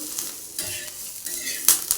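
Green chillies sizzle in hot oil on a griddle as they are stirred, a steady fry with a few sharp scrapes and clicks over about two seconds.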